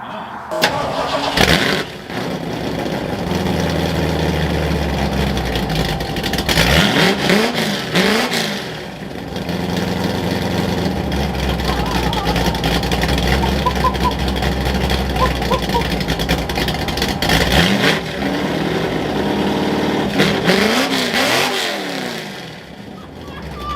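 A Ford F-100 pickup engine starts and rumbles loudly through its exhaust, revving up a few times over a steady idle while people talk nearby.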